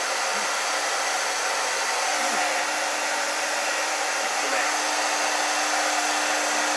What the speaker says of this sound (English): That's the hair with the hair dryer